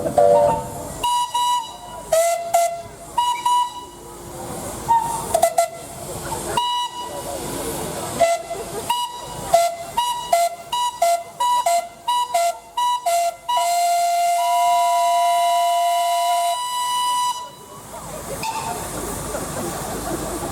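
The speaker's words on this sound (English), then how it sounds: "you just blow a whistle this time, because it'll soon empty your boiler of steam" Steam engine whistle at a steam rally blowing in repeated short blasts and longer held toots over hissing steam, loud and near, ending in one long sustained whistle.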